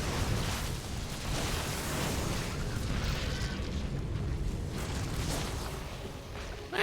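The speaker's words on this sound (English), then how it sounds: "Shoot down the banelings and the zerglings." Cannons firing on incoming banelings and zerglings in a StarCraft 2 pro match, producing a continuous rumbling barrage of explosions and bursts that stays loud throughout and is heard without talk.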